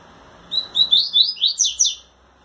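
Coleiro pardo seedeater, an eight-month-old male, singing to a female while trembling its wings: a short bright phrase of about eight quick high chirps in a row, close and clear against a quiet background.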